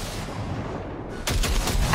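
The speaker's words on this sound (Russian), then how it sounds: "Видишь кучу мусора? Дай по ней короткую очередь." A short burst of automatic gunfire aimed at a pile of trash in the video game Cyberpunk 2077, a sudden loud rattling volley that breaks in after a stretch of quieter background ambience.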